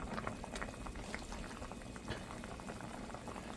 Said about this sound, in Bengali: অর্ধেক সিদ্ধ হয়ে গেছে, এখন আমি কাঁচা আমটা দিয়ে দেবো।